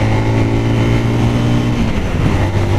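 A gearless scooter accelerating on a test ride at the Zontes R 350 launch event, its mid-pitched engine droning loud and steady and rising slightly in revs throughout, with no talk.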